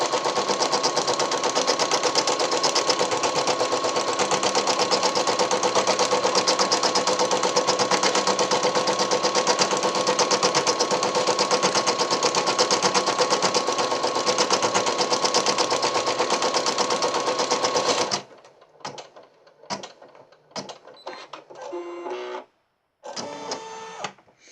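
An embroidery machine stitches out a placement line on an in-the-hoop Christmas ornament, a loud, rapid continuous buzz that cuts off abruptly, followed by scattered faint clicks and handling noises.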